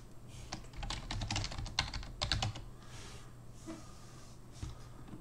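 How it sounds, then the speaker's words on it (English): Keys clatter on a computer keyboard in a quick burst of close typing, then thin out into a few scattered taps over quiet background noise. "So, let me just type a little something here,"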